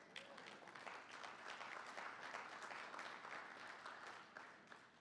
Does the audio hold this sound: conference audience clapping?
yes